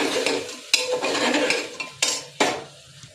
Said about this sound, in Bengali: একসাথে নেড়ে নেবো একটু।